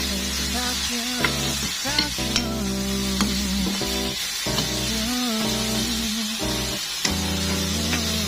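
Salagubang, June beetles, sautéing in a pan, a steady sizzle over a constant low hum, with occasional light taps and scrapes of stirring.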